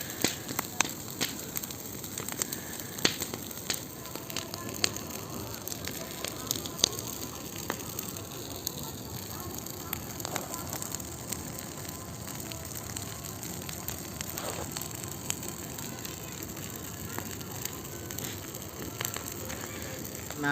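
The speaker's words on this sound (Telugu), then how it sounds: "చూడండి ఎంత బాగా మండుతుంది భోగి." A large Bhogi festival bonfire burns beside a car shed and parking area, giving a steady crackling, rushing roar with scattered sharp pops through the whole stretch, close and fairly loud.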